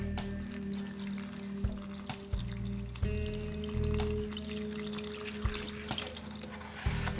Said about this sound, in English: I need to hold this one under the sink